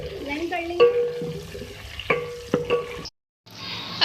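Tomatoes softening in a pan as they fry, with clattering stirring strokes and clinks over a steady low sizzle, loud and close, cutting out briefly before the stirring resumes.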